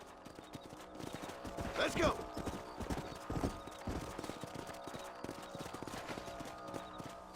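A horse's hooves clip-clop steadily during a ride in the Western video game Red Dead Redemption, a continuous trotting rhythm under game music, with a man calling out once over the hoofbeats.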